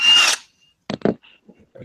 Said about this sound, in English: Damn, is that a drill?